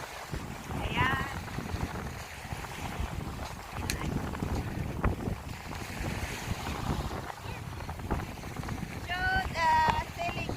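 Wind blows hard at a beach in Inverloch, Australia, with boats sailing nearby, a steady rumbling buffet across the microphone, and a few faint chirping calls rise above it.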